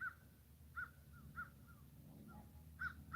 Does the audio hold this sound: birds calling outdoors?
yes